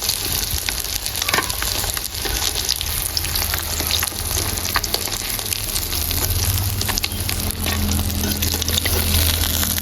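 Pieces of rui fish fry in hot oil in a home kitchen, a loud steady sizzle with crackling pops and occasional stirring scrapes, continuous and close with no voices.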